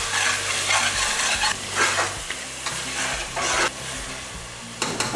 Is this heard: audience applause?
no